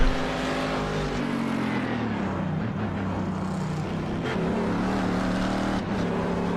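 Race car engine in a sim racing game, revving high with a brief drop at each upshift before pulling again at lower revs, steady and loud throughout without talk.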